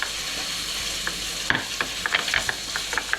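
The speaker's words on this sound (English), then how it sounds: "I'm going to blend this with butter." Butter being stirred into an 'nduja and chicken risotto in a pan, a soft sizzle underneath with scattered spoon scrapes and taps against the pan, close and moderately loud.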